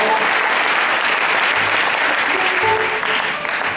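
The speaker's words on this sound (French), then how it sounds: "merci de lever par les acclamations de foi" A church congregation applauding during a Sunday service, a thick sustained roar of many hands clapping loudly and steadily from start to finish.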